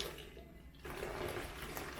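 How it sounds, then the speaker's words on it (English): Water is dumped out of a dirty Air Force One sneaker during cleaning. After a quieter moment it becomes a sudden, steady pouring splash that runs on close to the microphone. "I'm gonna just dump the water like this."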